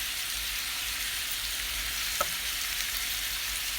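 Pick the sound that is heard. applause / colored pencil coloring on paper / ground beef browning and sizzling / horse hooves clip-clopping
ground beef browning and sizzling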